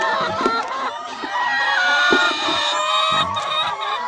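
A laying hen clucks loudly and repeatedly up close, with squawking cackles rising over faint background noise.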